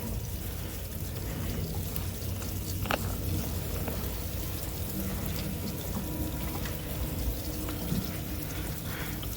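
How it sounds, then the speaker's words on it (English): A watering can pours a steady stream of water onto the first compost layer of a hugelkultur garden bed, a continuous close splashing that runs unbroken throughout. "I'm going to apply some water to this first layer"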